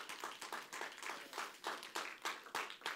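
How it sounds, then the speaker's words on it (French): Small church congregation claps during a sermon, fairly faint and uneven with individual hand claps distinguishable in a loose rhythm. "on peut applaudir"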